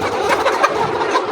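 A flock of layer chickens in a coop at dusk, waiting for feed, makes a dense, continuous clucking chatter close by.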